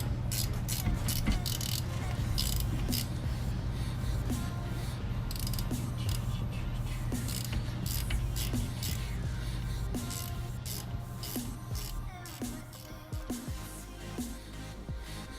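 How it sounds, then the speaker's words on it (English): A 14 mm ratchet snugging front brake bolts on a 2006 Toyota Highlander Hybrid in a shop, a long run of rapid pawl clicks in bursts with a low steady hum underneath, close by. "Grab our 14 mil, and I'm going to start snugging these up."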